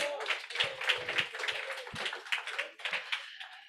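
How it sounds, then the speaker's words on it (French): Scattered clapping from an audience at a Christmas skit, uneven claps with a few sharp distinct hits, fairly quiet and brief, with a voice talking over it. "Est-ce qu'on peut les applaudir?"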